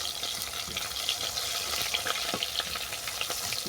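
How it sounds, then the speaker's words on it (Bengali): Banana pieces fry in hot oil with a dense, even crackling sizzle heard up close, steady throughout with faint clinks and no voices. "কলাগুলো আমার ভাজা হয়ে গেছে"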